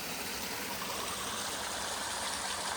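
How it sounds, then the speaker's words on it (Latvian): Small waterfalls near Portugal's highest peak pour in a constant, close rushing wash of water that never lets up and has no voices over it. "Un mēs nākam 3 reizes dienā vēsināties uz ūdenskritumiem mazajiem."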